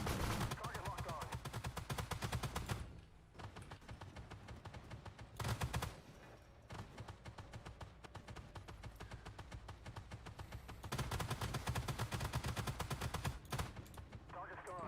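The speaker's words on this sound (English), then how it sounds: "I got a shot from an ATGM from the BM1 Puma and some machine guns as a hit" Sustained automatic machine gun fire in the BVP M-80A armored vehicle video game, loud and continuous bursts with a couple of brief pauses, no talk over it.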